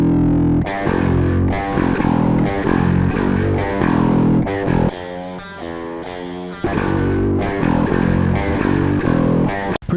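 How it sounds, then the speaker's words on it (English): A six-string guitar transposed and dropped to an eight-string range through a Neural DSP plugin, playing loud, heavily distorted low riffs with steady chugging and a short break midway before the riff returns. "this is what it sounds like transposed and dropped all the way"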